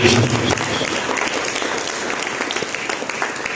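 A church congregation claps during a sermon, a fairly loud wash of mingled hand claps that holds steady for a few seconds without any voices over it.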